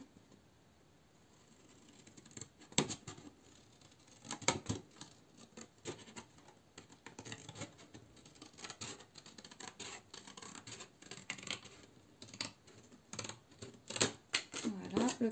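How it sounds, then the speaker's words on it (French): Scissors snip through paper along a drawn line, giving a run of short dry rasping cuts and crisp clicks at an uneven pace, close up, with a voice talking at times. "Alors moi, j'y vais au ciseau"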